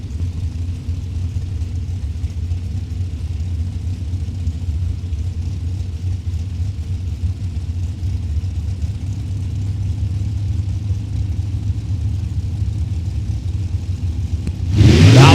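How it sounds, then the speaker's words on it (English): A drag racing door car at an Indianapolis strip gives a steady low engine rumble for most of the stretch, then a sudden loud burst of power right at the end as it launches. "The door car entry of Eckert, the Pataskala Flash, there in the left-hand lane."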